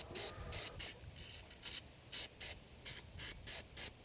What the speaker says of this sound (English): I'd probably just spray the chain kind of